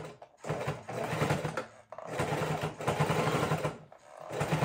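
Sewing machine running in continuous bursts while stitching a fabric seat belt cover with a scant quarter-inch seam, its steady mechanical whir pausing briefly twice between runs.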